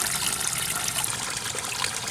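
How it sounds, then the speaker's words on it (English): A garden hose runs water into a small backyard koi pond, giving a steady, close hiss and splash that continues unbroken. "there's the hose that I'd mentioned. I'll just run that for about 5-10 minutes"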